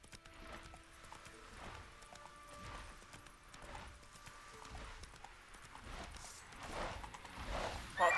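Roach, the horse from The Witcher 3, gallops in a steady drumming run of hoofbeats under a busy game soundtrack, with brief voice fragments and a louder burst near the end.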